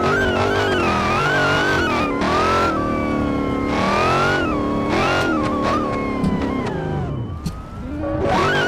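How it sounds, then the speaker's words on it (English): Hellcat-swapped SRT8 Charger in BeamNG Drive racing game, loud continuous supercharger whine and engine roar rising and falling through gear changes, with police siren wails layered over it, then a brief dip as the revs drop. "Now you can really hear the whine."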